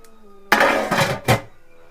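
A pot of beef biryani is stirred and its lid set on, giving a few brief, close metallic scrapes and a clattering clank against the rim.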